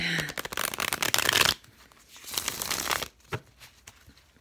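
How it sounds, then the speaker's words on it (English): Tarot cards are riffled and shuffled close up during a reading, with a crisp, dense burst of flicking card noise followed by softer shuffles and taps. "People can't hear me talk, but they can hear my card shuffling."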